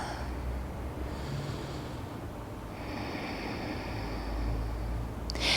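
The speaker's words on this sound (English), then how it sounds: "Take a few breaths" Slow, steady breathing of a person holding a reverse triangle pose in a gentle yoga flow, soft and close over a constant low room hum, with no talking.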